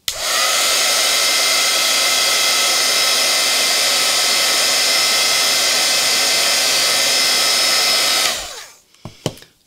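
A handheld heat tool blows a steady loud whirring hum as it erases FriXion pen ink lines from fabric on a mat, running continuously for about eight seconds before switching off, followed by a few light clicks.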